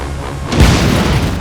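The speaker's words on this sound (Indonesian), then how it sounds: "Begitu ledakan terjadi" A heavy car explosion in an action film lands as one deep booming blast after a brief quieter lead-in, loud and close, with a rumbling tail that lingers to the end.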